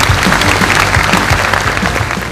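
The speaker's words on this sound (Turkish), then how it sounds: "alkışlarınızla." Audience applause at a Turkish automotive-industry innovation and design event as a health minister is invited on stage, a steady dense clatter of many hands filling the short stretch with no talk over it.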